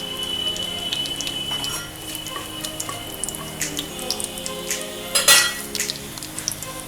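Whole spices, bay leaf, cardamom and cinnamon sizzling in oil in a kadhai, a soft steady frying hiss with light metallic clinks and scraping of a utensil, one sharper clatter near the end.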